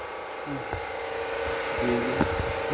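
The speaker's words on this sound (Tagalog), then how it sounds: "Ito yung blower." A blower cleaning a Daikin air conditioner unit gives a steady, close rushing hiss of air, with a few brief knocks and tones over it.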